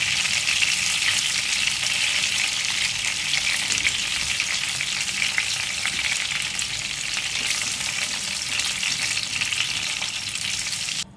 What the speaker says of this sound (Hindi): कबाब फ्राई हो गए हैं, हमें इसको निकाल लेंगे।